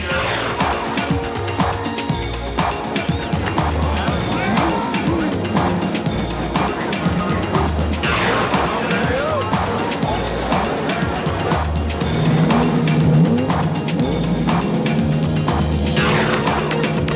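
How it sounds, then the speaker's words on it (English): IndyCar race car engines starting and revving at Burke Lakefront Airport, a dense, steady roar of many engines that swells slightly near the end, with a commentator talking over it. "Gentlemen, start your engines."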